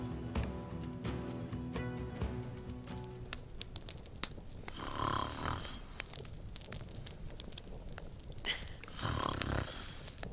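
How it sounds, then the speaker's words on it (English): A character snoring in the video game The Vale, two or three drawn-out breathy snores in the second half, fairly quiet under a faint ambient game backdrop with occasional small clicks and tones. "She snores worse than you."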